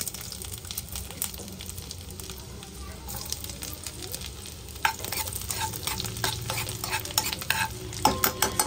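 Hot oil sizzles steadily in a kadai, crackling louder after a few seconds as garlic goes in, with occasional stirring clinks.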